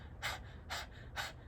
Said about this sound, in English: If you're not familiar with the breath of fire, you can start out by panting with the tongue out